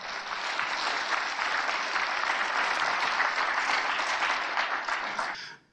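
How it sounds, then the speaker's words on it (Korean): An audience at a lecture on Korean War history breaks into dense, even applause, a full room clapping steadily for several seconds before it cuts off abruptly. "박수!"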